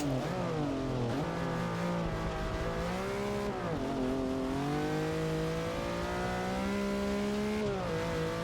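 Race car in Forza Motorsport 6 driving on a wet track, engine revving loudly and steadily with rising and falling pitch through gear changes, continuous throughout without talk.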